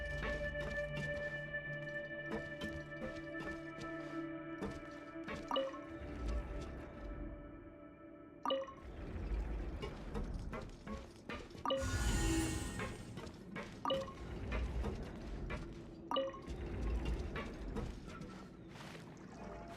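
Water rising in the video game Genshin Impact, a soft gurgling, pouring rush that swells partway through with splashy bursts, over faint steady game music; quiet overall with no talk.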